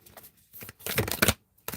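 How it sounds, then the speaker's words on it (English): A deck of tarot cards is riffled and shuffled by hand up close, with bursts of crisp card flutter separated by short pauses. "It's so hard to shuffle this deck and not hit the camera."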